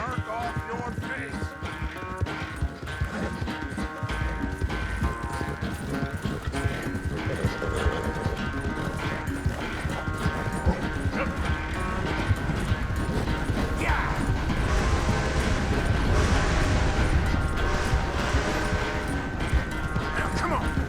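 Horse hooves gallop in Red Dead Redemption 2, a steady run of clip-clop beats mixed into dense, continuous game music and ambience for the whole stretch.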